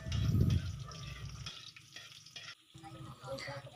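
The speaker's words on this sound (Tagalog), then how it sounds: "The first step in cooking the vegetable stock, we first saute the garlic and the onion." Garlic and onion sautéing in a pan for a vegetable stock, giving a loud, dense sizzle at first that settles into a softer, steady frying hiss with stirring.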